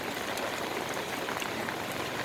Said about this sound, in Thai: วันนี้มี ฝนตกจ้า ฝนตกแล้วก็